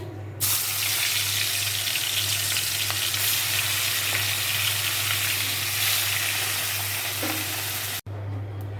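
Fish sizzles loudly in hot oil on a kitchen stove, a steady dense crackle and hiss running almost the whole time before a brief cut near the end.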